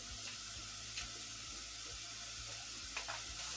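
Garlic and onion fry in oil in a pan for fava bean soup, making a faint, steady sizzle with a few soft stirring scrapes and no voices.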